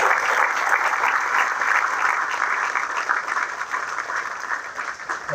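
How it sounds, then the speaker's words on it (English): Sustained audience applause at a military change of command ceremony, a dense steady clapping from a large crowd that holds loud and even throughout, easing slightly toward the end. "Give him a round of applause."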